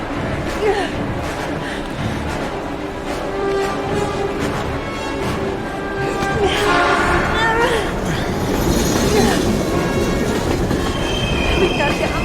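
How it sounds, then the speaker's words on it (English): A train approaching in the video game Heavy Rain, loud and close with rumbling wheels and high metallic screeching that builds toward the end, with no talk over it. "We've got to get on that train, Ethan."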